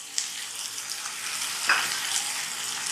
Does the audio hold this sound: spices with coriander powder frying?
yes